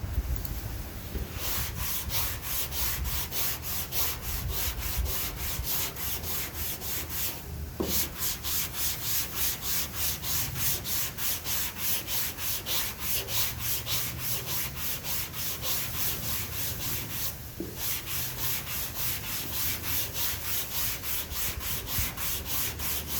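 Body filler is sanded by hand on the firewall of a 1938 Ford truck in a continuous, rhythmic rasp of quick back-and-forth strokes. Two short pauses break the steady scratching, which sounds close and fills the whole stretch.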